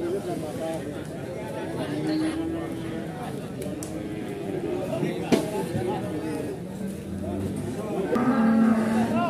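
Feeder cattle at the busy Pasar Wage livestock market in Pati, Indonesia, low and moo several times, drawn-out calls near and far, over constant crowd chatter and people talking nearby.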